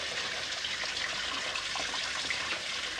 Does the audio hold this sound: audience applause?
no